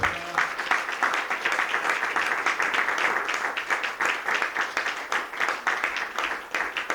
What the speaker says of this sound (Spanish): De un aplauso fuerte al Señor.